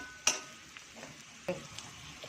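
Carrot and capsicum dropped into a pan of sautéing onions for pasta, giving a faint background sizzle marked by a couple of soft clatters and stirring scrapes.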